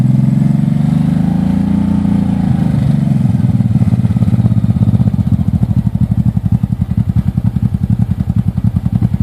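A 1985 Honda Shadow VT700C motorcycle engine turns over on choke and catches, then settles into a loud, close, rhythmic lumpy idle that pulses steadily to the end, with no speech.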